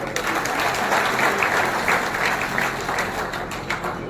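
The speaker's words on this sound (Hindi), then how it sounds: "आदरणीय नवीन जिंदल जी, जोरदार तालियों से" A crowd at a political rally claps steadily in dense, sustained applause, loud and continuous throughout with no break.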